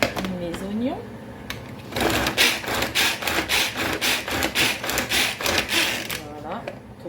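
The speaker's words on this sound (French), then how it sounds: "Je vais mixer mes oignons." Chopped onions are blitzed in a food processor in a string of short, loud, whirring pulses, with a voice speaking just before and just after.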